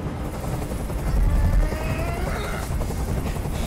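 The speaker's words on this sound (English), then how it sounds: "Tell that helicopter to get out of here." Helicopter in the Detroit: Become Human game, a steady loud rotor drone filling the clip with a low rumbling throb, slight swells and a faint tonal whine above it.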